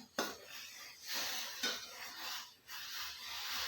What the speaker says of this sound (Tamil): இப்படி கிண்டிகிட்டே இருக்கணும்